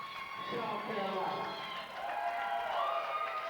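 A live pro wrestling crowd at a TV taping in Chesnee, South Carolina cheers and roars in a sustained wash of noise, with a commentator talking over it throughout.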